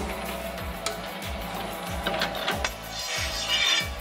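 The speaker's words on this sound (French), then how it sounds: "Je démarre la machine, je pose le plat sur le support d'entrée et je la fais passer dans la machine." A CREA-WHEEL straightening machine runs while a 10 mm steel flat bar passes through it, making a close, steady mechanical clunking that repeats in a regular rhythm about every half second over a low hum.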